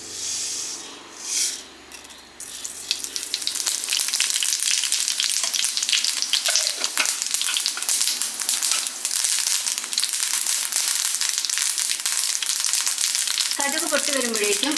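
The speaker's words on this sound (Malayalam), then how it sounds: "എണ്ണ ഒന്ന് ചൂടായി വരുമ്പോഴേക്കും അതിലേക്ക് നമുക്ക് കുറച്ച് കടുക് ഇട്ട് കൊടുക്കാം." Mustard seeds frying in hot oil in a pan for a Kerala egg thoran, a steady loud crackling sizzle that builds after a quiet start and runs continuously until a brief change near the end.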